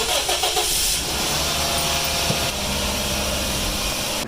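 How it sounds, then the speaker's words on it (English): A diesel engine starts after its glow plugs warm, then settles into a loud, steady mechanical rumble close by, with no voices over it. "The glow plugs are ready, bro. Start it up."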